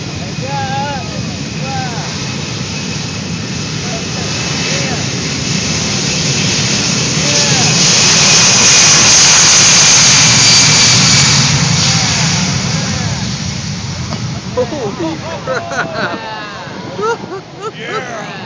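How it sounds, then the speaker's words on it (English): An Air Force C-17 jet at an air show throttling up for a short field takeoff, a broad roaring rumble that swells louder through the middle and then eases, with a crowd talking underneath. "Throttling up, getting ready for a short field takeoff."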